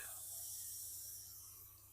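An airbrush sprays thinned paint onto a model railway signal box, giving a steady, close, airy hiss that eases off slightly toward the end.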